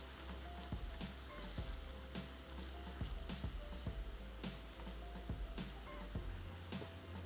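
Onions frying in a pan on the stove, a steady close sizzle with periodic stirring scrapes and clinks recurring about every second, alone with no talk.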